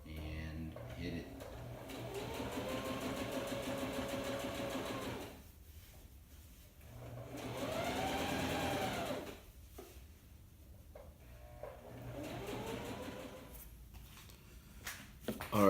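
A home sewing machine runs a long straight stitch at its largest length through a down quilt, whirring in several long runs with brief pauses and back-stitch bursts between them.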